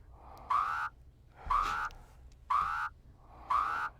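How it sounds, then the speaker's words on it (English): A repeating low-oxygen warning tone in a video game sounds four times at a steady one-second pace, each a short bright rising beep over a low background hum. "that's the sound of my O2 getting very low"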